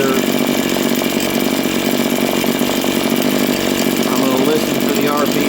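A RedMax TRZ230S two-stroke engine runs lean while its carburetor is being tuned, giving a loud, close, steady high-pitched buzz that holds without a break.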